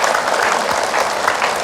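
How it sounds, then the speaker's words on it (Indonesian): A studio audience at a televised Islamic sermon show applauds a preacher: dense, loud, continuous clapping that fills the whole moment with no pause. "tepuk tangan nih Ustaz Zaki Mirza nih"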